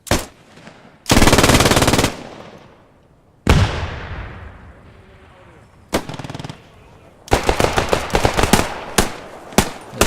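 World War II era rifles and machine guns fire in a Post Scriptum hilltop offensive, a long loud automatic burst followed by single echoing shots and a rapid chain of close reports near the end.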